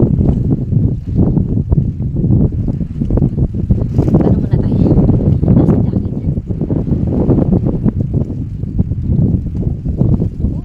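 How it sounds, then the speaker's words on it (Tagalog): Wind buffets the microphone in a steady rumbling gust on a hike to Makapaya Hills, San Andres, while a person talks and breathes heavily. "May hangin naman."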